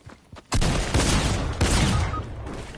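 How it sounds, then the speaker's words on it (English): Gunfire in the Fortnite video game, a dense, loud burst of rapid shots that starts abruptly after a quiet moment and keeps going in sustained volleys. "That guy was hitting me from across the street with a gunfire."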